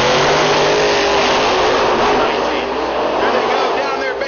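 Loud, continuous roar of gasser drag race cars, old-style hot rods such as a 1937 Chevrolet coupe, launching down the strip at a Rockingham drag racing event, engines revving hard and sustained, with an announcer talking over the noise.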